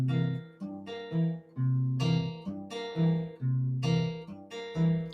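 Fingerpicked guitar notes and chords in straight, even eighth notes, close and moderately quiet, played alone with a stiff, unswung feel.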